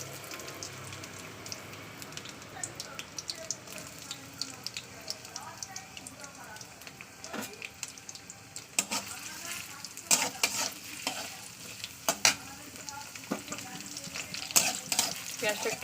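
Onion frying in oil in a wok, a steady soft sizzle with scattered crackles and stirring scrapes that grow louder toward the end.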